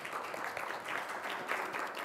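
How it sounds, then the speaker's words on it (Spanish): An audience welcomes the two guests at a university panel discussion with a brief, steady patter of applause, fairly soft and slightly distant, with no talk over it. "les pido un fuerte aplauso para nuestros dos invitados"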